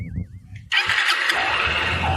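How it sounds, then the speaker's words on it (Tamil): A vehicle engine cranks and catches after a quiet moment, then runs steadily and loud with a broad, rough roar. "வண்டி ஸ்டார்ட் ஆகுது"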